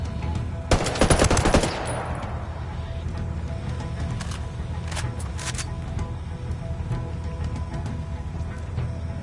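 Gunfire in Ghost Recon Wildlands on PS5, a loud rapid automatic burst near the start, then scattered fainter shots over steady background rumble.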